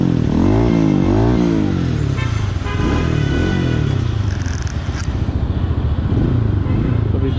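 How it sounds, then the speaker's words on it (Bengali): A GTXL V4 Special Edition motorcycle engine runs loud and close, a throbbing, revving drone that holds steady for the whole stretch, with a voice faintly audible beneath it. "বাইকটা সাউন্ড শুনতে পাচ্ছেন, অস্থির সাউন্ড"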